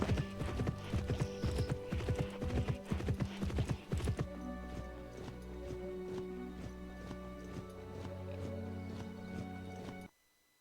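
Horse hooves clip-clop in a steady run of footfalls in the Pippa Funnell Ranch Rescue video game, with a whinny and background music, clear and close, then fading to near silence at the very end.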